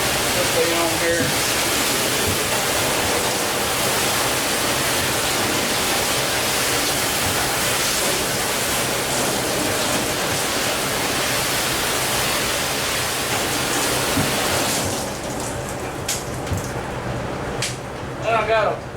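Steady hiss of water spraying over a 1985 Chevy K10 pickup truck to rinse off dust, continuous and close for most of the stretch before easing off near the end, with faint voices underneath.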